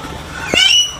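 A Victoria crowned pigeon in an aviary gives a single short, low call, with faint higher bird chirps in the background.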